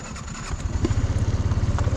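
A Suzuki Address V125 scooter engine runs on the road during a test ride, its low, pulsing drone growing steadier and louder partway through. No one speaks.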